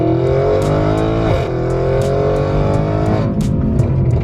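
An 800-horsepower Audi RS7 accelerates hard, its engine roaring loud and close through rising revs with a brief dip at a gear change before climbing again, with sharp pops over the top.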